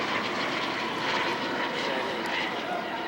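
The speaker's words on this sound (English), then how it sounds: "I wait for the airplane." A fixed-wing airplane passes overhead with a steady, loud engine roar, a broad continuous rumble that fills the whole stretch with no talk over it.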